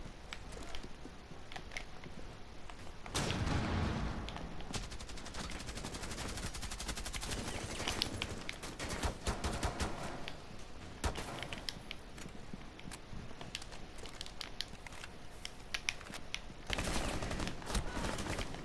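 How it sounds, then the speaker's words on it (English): Sustained rapid gunfire and bullet impacts in a shooter video game, dense and continuous, with louder bursts near the start and end and no voices. "You see all those bullets? Those are mine."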